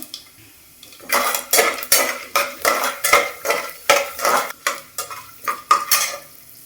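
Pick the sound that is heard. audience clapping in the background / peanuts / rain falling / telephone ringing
peanuts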